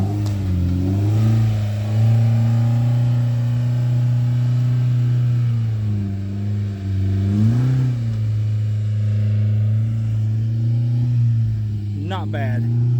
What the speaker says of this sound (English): That muffler. That's a different noise right there.